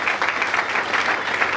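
A church congregation applauding together, a dense, lively burst of clapping close and loud for a moment with no voices over it.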